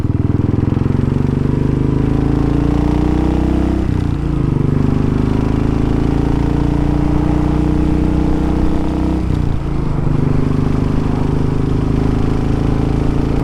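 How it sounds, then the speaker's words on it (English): A Royal Enfield 500 single-cylinder motorcycle is ridden on an open road, its engine thrumming loudly and steadily throughout, with two brief dips in pitch as gears shift. "Today I'm on my Royal Enfield 500"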